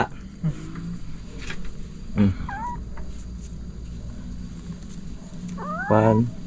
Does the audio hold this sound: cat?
yes